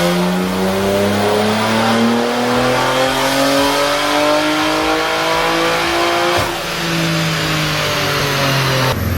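A FEMTO-unlocked 800 hp BMW G80 M3 with the S58 twin-turbo engine revs hard on a dynojet dyno pull. The engine note climbs loud and sustained, with a brief dip before it keeps roaring.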